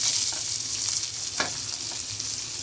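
Dried red chilies, with onion and curry leaves, fry in hot oil, a close, loud, steady sizzle with a faint stirring scrape, no voices.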